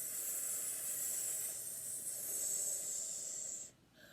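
A group of people breathing out together in a long, steady, breathy hiss imitating a snake, sustained for several seconds then cutting off abruptly.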